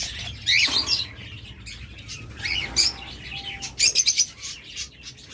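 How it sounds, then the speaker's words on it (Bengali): Budgerigars and other pet birds chirp and tweet in bright, scattered bursts at a bird shop, with a quick flurry of calls near the end over a steady low background hum. "এছাড়া আমাদের কাছে অসংখ্য পরিমাণ বাজরিগার পাখি রয়েছে।"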